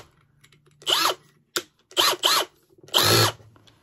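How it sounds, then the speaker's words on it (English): A power drill with a large bit is run in several short bursts, working on a rosette coat hanger. Four or five close, loud whirring pulses are separated by brief pauses. "Change out our drill bit for our big one."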